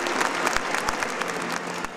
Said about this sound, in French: C'est aussi l'occasion pour les Alsaciens d'applaudir avec émotion Monseigneur Gralet